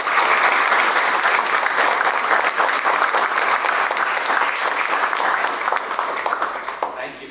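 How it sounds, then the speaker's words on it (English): A university lecture audience claps loudly and continuously for several seconds to welcome a guest speaker, a dense sustained round of applause that fades slightly at the end. "Please give your most welcoming round of applause for our speaker tonight, Dr. Chet Pecknold."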